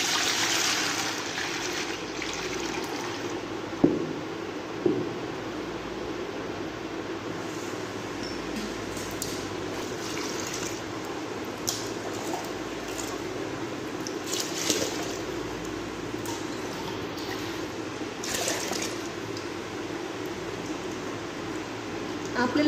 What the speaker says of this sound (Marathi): आपल्याला असं 2-4 पाण्याने धुवून काढायचं आहे